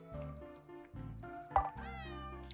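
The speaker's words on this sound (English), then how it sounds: "Meow." A cat meows in the video game Returns Outlet Simulator, a few drawn-out tonal meows over a steady game background hum, clear and close with no talking.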